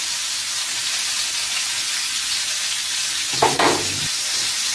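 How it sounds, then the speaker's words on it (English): Spice-rubbed pork chops sear in a hot pan with a steady, dense sizzle, and a brief clatter or stir of utensil against the pan cuts in near the end. "I can still hear my meat searing"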